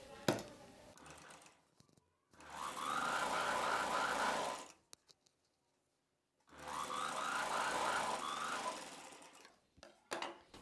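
Sewing machine stitching the folded edge of a kids' cotton frock in two steady bursts of rapid needle chatter, separated by a pause, with light handling clicks before and after.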